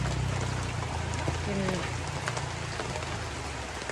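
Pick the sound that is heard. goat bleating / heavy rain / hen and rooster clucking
heavy rain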